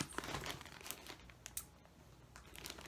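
Plastic bag holding knitting yarn crinkling and rustling as the yarn is pulled out, a close run of irregular crackles and soft crunches, quiet and heard alone.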